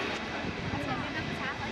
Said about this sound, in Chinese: 这架飞机呢，属于东方航空公司，